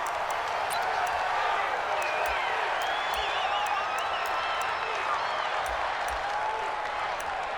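Dense stadium crowd roar from a Madden NFL 20 football game, a steady wall of cheering and scattered whistles and whoops, loud and continuous throughout with no clear speech.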